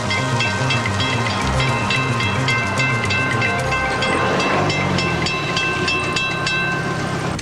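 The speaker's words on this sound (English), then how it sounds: "Oh, we can't wait for a train" A train passes close by at a railroad crossing, a loud continuous rumble with rhythmic clickety-clack of wheels over rail joints and a steady metallic hiss that lasts through the whole stretch.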